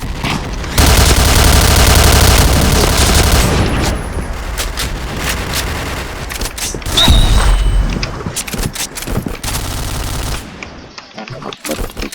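Grenade blasts mixed with rapid automatic gunfire from a first-person shooter match, loud and dense throughout, with a heavy boom near the middle and bursts continuing after.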